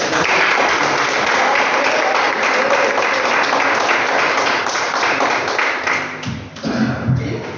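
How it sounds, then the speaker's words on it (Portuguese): Sustained congregational clapping at a church worship service fills the whole stretch, dense and loud, thinning briefly near the end. "Palmas do Senhor engrandece"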